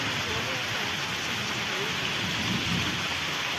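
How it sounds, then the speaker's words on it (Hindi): Heavy rain pours in a steady, dense roar with low rumbling thunder underneath, loud and continuous throughout, with a voice faintly audible under the downpour. "देखो एत जोर वर्षा है"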